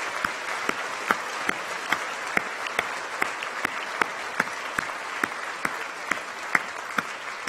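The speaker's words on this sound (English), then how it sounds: "Shall we give them a round of applause?" A graduation ceremony audience gives steady, sustained applause for a small a cappella choir. The clapping is dense and even, with scattered sharper claps standing out, heard at a moderate distance with no talking.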